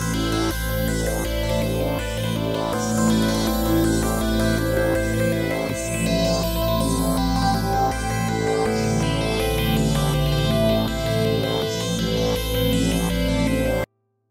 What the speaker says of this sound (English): the more ambient sounds without any kind of beat,